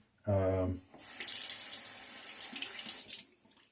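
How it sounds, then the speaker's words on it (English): A bathroom tap runs to wet a shaving brush, a steady close stream of water lasting about two seconds after a brief voice, then shutting off. "I'm going to dab and get some more water on the brush"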